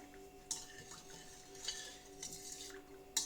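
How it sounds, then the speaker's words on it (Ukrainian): A spoon scrapes and clinks around inside a pot while stirring sugar into water, with a few sharper knocks against the side amid steady quiet stirring. "Розмішуємо."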